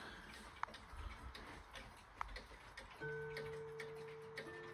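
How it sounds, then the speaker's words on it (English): A clock collection ticks quietly and steadily, with a few sharp ticks standing out, and a clock begins to chime softly with sustained tones partway through. "I just don't want to talk over the clocks that are striking or chiming right now"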